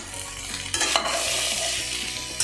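A spoon stirs potatoes frying in oil in a pan, with a steady close sizzle and a couple of sharp scraping knocks against the pan, and no voices.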